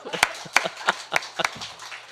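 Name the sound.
congregation clapping in church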